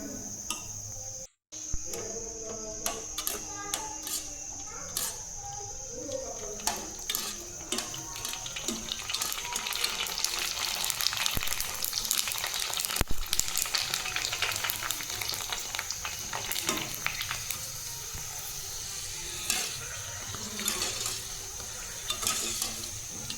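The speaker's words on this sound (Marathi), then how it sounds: "आता मस्तपैकी टम्म पाणीपुरी मी तळून घेते आणि खूप छान फुगतं" Panipuri puris deep-frying in hot oil, a close, continuous bubbling sizzle with scattered crackles and pops, heard alone without talk.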